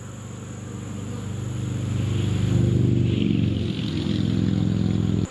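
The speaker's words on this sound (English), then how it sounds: "see these bees right here?" Honeybees buzz around a freshly installed nuc hive outdoors, a close, steady droning hum that swells in the middle and holds without talk.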